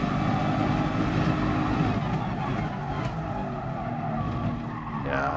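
Nissan R92CP 1992 race car lapping Le Mans without chicanes in GT Sport, loud sustained engine drone with tire skidding and squeal throughout, close and steady.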